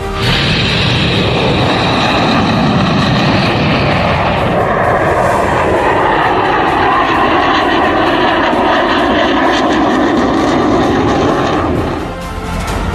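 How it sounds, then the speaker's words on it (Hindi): Indian Air Force fighter jets such as Sukhoi and Mirage roar low over the Purvanchal Expressway air show, a loud sustained jet thunder with a rising then falling pass that fades slightly at the end. "सुखोई और मिराज जैसे देश के फाइटर प्लेन, लड़ाकू विमान यहाँ पर एयर शो करेंगे"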